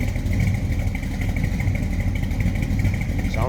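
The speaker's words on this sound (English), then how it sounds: "a little rumble coming out of that 350" The 350 V8 of a 1981 Chevrolet Camaro Z28 rumbles steadily at idle, a close, continuous low throb with a faint rising whine near the end.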